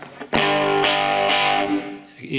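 An electric guitar is strummed through an amp with a slight crunchy distortion, a few sustained chords ringing out.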